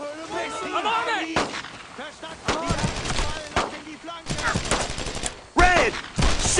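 Gunfire and explosions from the WWII shooter Brothers in Arms: Road to Hill 30, loud bursts and sharp reports recurring throughout amid battle noise, with squad members shouting orders over the fighting.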